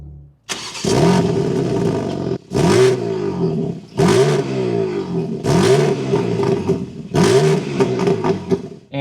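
A 2026 BMW M3 Competition xDrive engine starts and revs hard in four or five sharp bursts, each roaring up and falling back to a rough idle between blips, loud and close.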